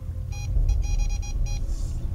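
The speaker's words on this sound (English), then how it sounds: "When I turn it on, you'll hear it beep." An EVP recorder device gives a series of short, regular electronic beeps in quick bursts, close and clear over a low background rumble.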